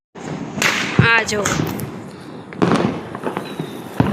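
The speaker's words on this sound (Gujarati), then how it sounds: "ચારે બાજુ જે ફટાકડા જ ફૂટે." Diwali firecrackers burst around a city street in Porbandar, with sharp cracks, a crackling fizzing volley and several loud pops spread over a few seconds, and a brief voice is heard.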